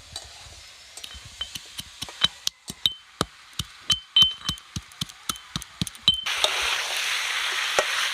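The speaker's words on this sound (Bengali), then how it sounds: "আমি এবার ভাজা মশলাটা ছেঁচে নেবো, আগুন দিতে ছেঁচে নেবো ভালো করে।" Fried spices pounded for chicken tehari with a pestle, a series of sharp, distinct knocks in a loose, uneven rhythm, fairly close and clear, with a hissing sizzle taking over at the end.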